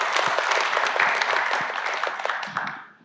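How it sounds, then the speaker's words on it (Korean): A talk concert audience gives a short round of clapping, lively and close at first, then thinning and fading out within about three seconds. "여러분 박수 한번 보내주십시오"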